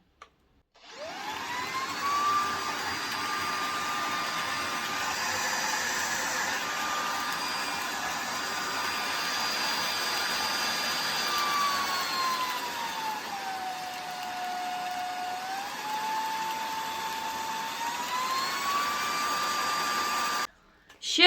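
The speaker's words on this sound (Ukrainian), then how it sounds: "Зараз я ще вімкну цей пилосос, покажу вам циферблат." A cordless vacuum cleaner runs steadily for about twenty seconds with a whining motor hum that shifts pitch as it steps between power levels, dropping lower for a stretch before rising again. It sounds close and continuous, with no talking over it.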